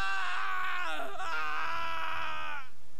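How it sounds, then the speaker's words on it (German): A man screams in agony in the Sherlock Holmes video game, one long strained wailing cry of about three seconds that wavers and cracks in the middle before cutting off, heard alone. "Ich habe Flint noch nie so schreien gehört."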